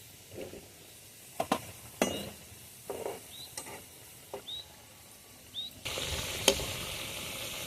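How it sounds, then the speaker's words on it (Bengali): Semolina pitha frying in hot oil, giving a steady soft sizzle broken by a few sharp utensil clicks and scrapes, then swelling into a louder, denser crackle near the end. "বাকি পিঠাগুলো আমি এভাবে ভেজে নেব"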